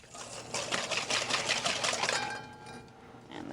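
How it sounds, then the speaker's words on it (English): Egg yolks and sugar are whisked briskly in a bowl for pastry cream, a fast rhythmic clicking and tapping of the whisk that runs for a few seconds, close and alone. "The yolks and sugar are whisked."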